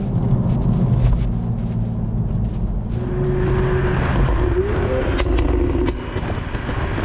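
A 2019 Toyota GR Supra's engine roars loud and close, a deep steady drone that swells and shifts pitch as the car accelerates, with no voices over it.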